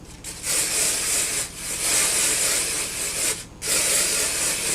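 IGK dry shampoo sprayed onto sectioned hair in several long hissing bursts of about a second each, separated by short gaps, close and fairly loud with no talking.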